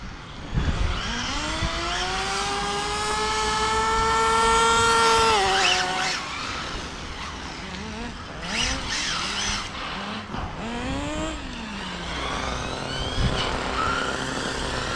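A Hobao Extreme VTe2 1/7-scale electric RC car with a Castle Creations 1520 1650KV motor on 6S power drives on a tarmac circuit, its motor whine rising and falling with rapid pitch sweeps as it accelerates, brakes and slides, tires squealing in short skids.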